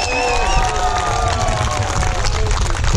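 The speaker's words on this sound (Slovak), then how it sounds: "Počuli ste potlesk?" Crowd applause at the Three Kings winter swim in Michalovce: steady outdoor clapping and cheering from many people, loud and continuous, mixed with whistling tones.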